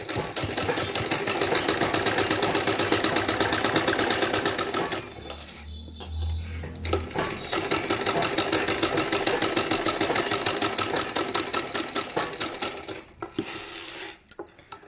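A sewing machine stitches a beaded sleeve seam in rapid, rhythmic bursts, running steadily, pausing briefly near the middle, then resuming before slowing to a stop at the end.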